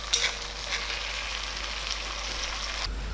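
Garlic and green chili fry in a pan for chicken curry, a constant bright sizzle with a couple of sharp clinks early on, running evenly and up close before cutting off near the end.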